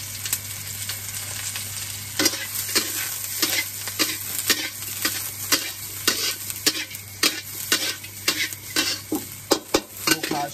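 Lightly flour-dipped pork fries in a pan over low heat for chili-salt stir-fried pork, giving a continuous close sizzle and crackle with frequent scraping and stirring clatter against the pan.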